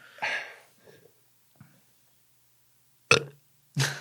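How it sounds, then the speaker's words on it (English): Several burps ring out close by, separated by silence, with two loud, abrupt ones toward the end. "Burp podcast. Burp ASMR."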